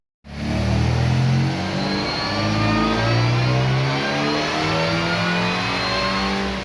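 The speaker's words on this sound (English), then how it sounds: "In the last video you saw me take my car to the rolling road and it sounded like this." Supercharged MGB engine revving hard on a rolling road dyno, a loud, sustained mid-pitched roar with rising and falling engine tones throughout and no talking.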